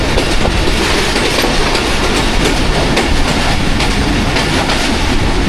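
Locomotive 8311 shunting a freight train in Lala Musa junction yard gives a steady, close rumble of rolling wagons with rhythmic wheel clatter throughout, no voices.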